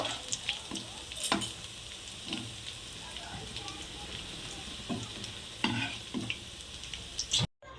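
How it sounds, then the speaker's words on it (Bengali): Cabbage pakoras sizzle steadily in hot oil, punctuated by occasional scraping and clattering of a utensil stirring the pan. "সমস্ত পকোড়াগুলো এইভাবে ভেজে নেব"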